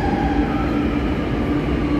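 Metro train at a station in Lucknow, a loud, steady rumble and whine of the train running close by, with a faint tonal hum and no speech.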